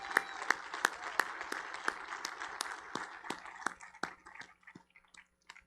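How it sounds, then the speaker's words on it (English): At the Cushing Academy class of 2021 commencement, the audience gives faint, distant applause for the graduates: scattered claps that thin out and die away toward the end. "Let's give them a round of applause."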